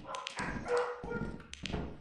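Dogs in the video game Lethal Company let out a rapid series of short barks and yips, mixed with a whimper, over a busy game background.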